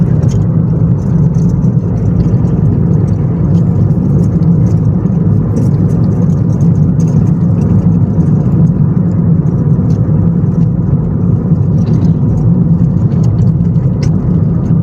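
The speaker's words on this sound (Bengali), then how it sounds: "গাড়ি এখন 80 স্পিডে আছে" A car driving at a speed of around 80 gives a steady, loud engine drone and road rumble heard from inside the cabin, a continuous low whir with faint ticks above it and no voices.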